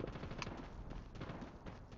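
DR-H assault rifle firing in COD Mobile, a dense run of rapid shots with a loud burst near the start, continuous under in-game battle noise.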